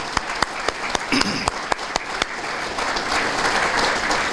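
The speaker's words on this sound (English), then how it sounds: "how about one more round of applause for all of our speakers and presenters today?" An audience at a schools report event gives a round of applause for speakers and presenters, with a few sharp individual claps that spread into a steady, moderately loud ovation.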